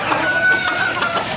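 Mulawin Bulik hens cluck close by in a loud, continuous burst of fowl calls, with talk faintly mixed in.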